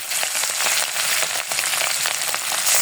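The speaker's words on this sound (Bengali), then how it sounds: "তেলটা গরম হয়ে গেছে এখন মাছটা আমি একে করে ছেড়ে দেবো" Hilsa fish fries in hot oil, a dense, close crackling sizzle with sharp pops scattered through it, steady and loud with no voices.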